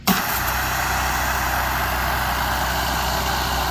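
EVEAGE extractor surface cleaner pressure washer running without a hose attached, spraying water in a loud, steady hiss with a constant motor drone throughout, close and uninterrupted.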